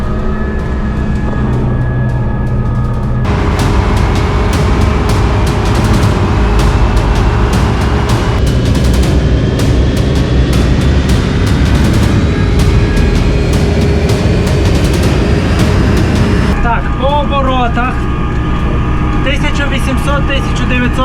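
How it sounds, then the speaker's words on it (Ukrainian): A tractor engine runs steadily and loud with an orchard sprayer switched on, a continuous droning mechanical roar with a rising whine during fruit-tree spraying in Spain. "Включаємо оприскувач і поїхали."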